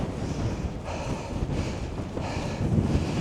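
Strong wind buffets the microphone on an exposed mountain summit in the Carneddau, a steady roaring rush with gusty swells and no voices.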